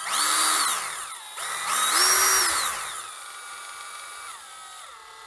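A Bosch Pro GSR 18V cordless drill runs alone, its motor whine climbing and falling in several distinct speed ramps, with one long held spin before easing down to a steady lower note.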